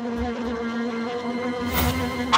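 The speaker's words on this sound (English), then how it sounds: "Red alert! It's a wasp!" A cartoon wasp buzzes in a continuous droning whine with a steady pitch, close and alone, ending with a brief swell of noise.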